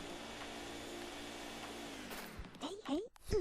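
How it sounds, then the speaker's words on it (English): The Poltergust 3000 vacuum in the Luigi's Mansion video game gives a steady, muffled whirring suction drone that cuts off partway, followed by brief chirpy game sound effects. "the Poltergust 3000. It can suck up all kinds of things."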